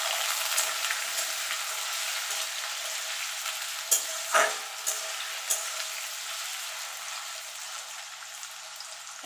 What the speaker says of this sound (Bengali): এবার আলুটাকে আমি একটু লাল লাল করে ভেজে নেব।